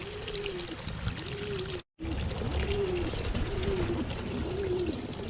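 Young Portuguese roller pigeons, a small short-beaked breed, coo in soft repeated rolling phrases about once a second, close by over a steady background hiss and trickle, with one brief cut to silence.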